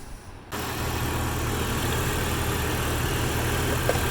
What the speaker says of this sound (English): go start your engine and turn it to high AC